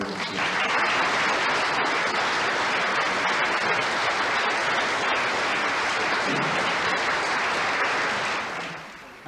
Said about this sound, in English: I hope that you'll show your appreciation of the round of applause for everyone